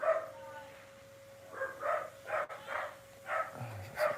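A pet dog at home, heard as a few quiet barks and yips spread across the moment, fairly close but soft, with a faint steady hum behind them.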